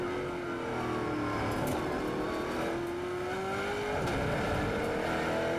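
An NZV8 V8 race car engine at Taupo drives hard on track, loud and continuous, with rising and falling engine tones as it revs toward the limiter between gear changes.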